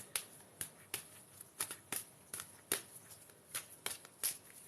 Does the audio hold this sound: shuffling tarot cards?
yes